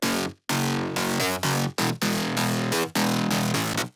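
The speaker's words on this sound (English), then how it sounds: "Mid bass without effect sounds like this." Dry future house mid bass synth with no effects: a buzzy, bright tone in a rhythmic pattern of short and held notes with brief gaps, loud and unaccompanied.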